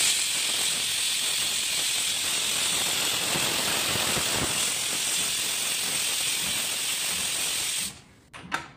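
A pressure cooker steams continuously while corn pulao cooks, a loud, steady hiss close by that drops away near the end, followed by a faint clatter.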